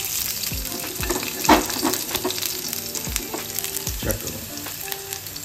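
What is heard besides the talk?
garlic frying in hot olive oil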